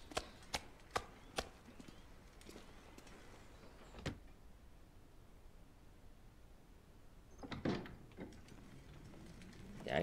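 Meat being carved from a carcass in The Long Dark survival game, a run of quick sharp cutting strokes up front, a single chop mid-way and a rougher scraping burst near the end over faint windy background.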